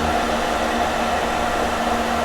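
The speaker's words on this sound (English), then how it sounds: "choice of hair dryer wasn't the best. This one's got a little bit more blow than I like." A hair dryer blows continuously at close range, a steady whooshing roar with a faint motor hum and no pauses.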